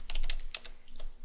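Keys on a computer keyboard click in a quick irregular burst while a Linux export command is typed, close and moderately loud with no talking.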